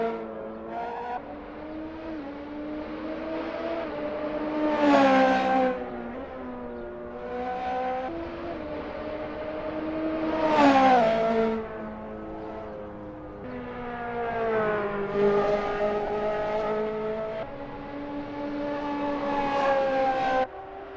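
A Radical SR3 race car in Assetto Corsa at Dragon Trail Seaside, its engine revving hard through repeated rising sweeps and gear changes, sustained and loud with no talk.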